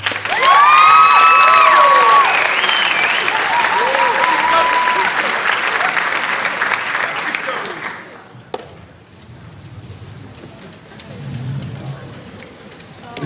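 A crowd at a 2004 high school scholarship awards night breaks into loud applause with cheers and whistles, fading after about eight seconds into quieter room murmur and a faint voice.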